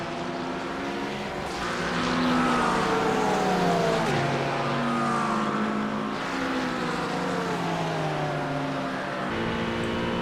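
GT3 race cars lap the Sebring International Raceway at night in the iRacing simulator, engines revving up and down through the gears in rising and falling whines, loud and continuous, with other cars close by.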